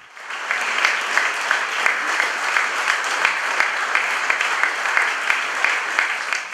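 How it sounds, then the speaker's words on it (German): Long, sustained applause for a retiring school headmaster fills the hall: a dense, steady wash of many hands clapping at even loudness from start to finish. "Am Ende gab es langanhaltenden Applaus."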